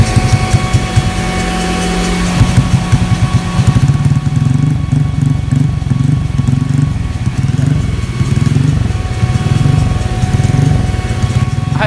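A bored-up Honda Vario 125 scooter engine runs loud and close, with a steady, throbbing, slightly rough idle and light revving for about twelve seconds and no talking.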